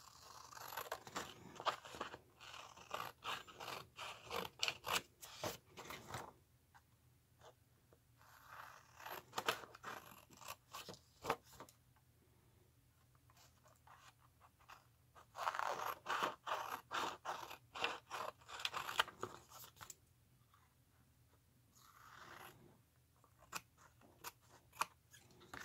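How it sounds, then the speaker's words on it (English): Scissors snip through craft material in repeated quick cuts, arriving in bursts separated by quiet pauses, close and fairly soft, with light scraping and handling noise between them. "I think I'm going to use my scissors"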